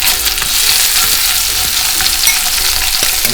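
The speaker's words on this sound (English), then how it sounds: "So we throw our peppers in." Peppers fry in a hot pan for chicken fajitas, giving a loud, continuous, close-up sizzle with faint crackles and occasional stirring scrapes beneath it.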